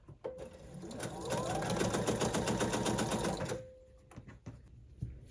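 A sewing machine chain-piecing quilt blocks runs in one fast, steady burst of rapid stitching, framed by short handling clicks before and after.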